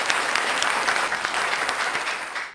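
Audience at a Hindi poetry gathering welcomes a poet with sustained, dense applause, steady and even before cutting off abruptly.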